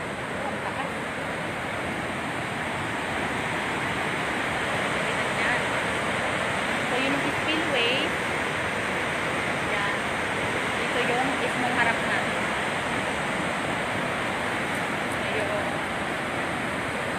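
Strong water released from Magat Dam during Typhoon Ulysses, a continuous heavy roar of rushing water with wind noise on the microphone, steady and loud for the whole stretch without letup.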